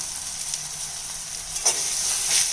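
Tomato masala for a stuffed brinjal curry sizzles and fries in a pan, with a steady hiss, a few stirring clinks and scrapes, and no talk.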